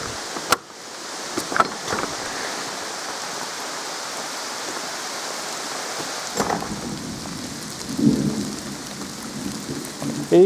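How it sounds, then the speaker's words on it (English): Heavy rain falls steadily during an outdoor thunderstorm while wild camping on a firing range, a constant hiss with occasional sharp cracks and a deeper rumble of thunder rolling in partway through. "Here we are in the thunderstorm,"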